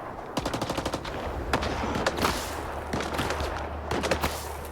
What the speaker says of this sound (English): He's shooting at the zombie, not me.